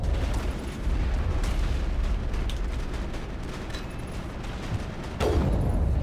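A nuclear detonation on a planet in Mass Effect rolls out as a low, rumbling blast that builds into a sustained roar, with a fresh heavy boom near the end.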